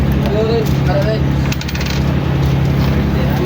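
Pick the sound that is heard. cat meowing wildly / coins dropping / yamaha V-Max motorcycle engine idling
coins dropping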